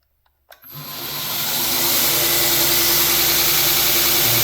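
A 2 HP DC servo drive motor switches on after a click and spins up, its whine climbing smoothly in pitch and loudness to a steady, loud high-speed hum held close and alone.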